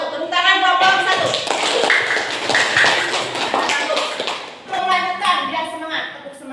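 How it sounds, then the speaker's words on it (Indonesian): Classroom students clap for a presenting group during a lesson. Scattered clapping and tapping run in a cluster mid-clip, with children's voices and a teacher talking before and after. "Tepuk tangan kelompok 1."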